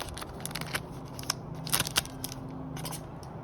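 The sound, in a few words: opening a trading card pack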